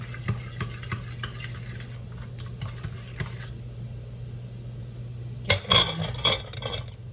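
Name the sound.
whisking oil into eggs and brown sugar batter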